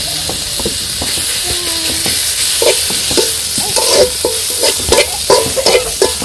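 Garlic and vegetables fry in a pan over a steady loud sizzle and hiss, with scraping stirs and clinks of a utensil throughout, close up and with no talk.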